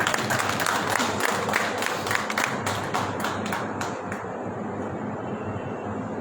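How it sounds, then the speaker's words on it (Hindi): Applause from the crowd at a party event, a broad wash of clapping with sharp individual claps early on that thins and fades toward the end, moderately loud with no voices over it. "बार इन सब के लिए जोरदार तालियां।"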